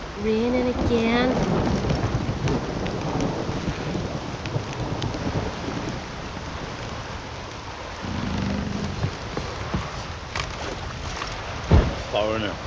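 In The Witcher 3, rain hisses steadily throughout a stormy scene while thunder rumbles, with one sharper crack near the end, and voices speak over the downpour.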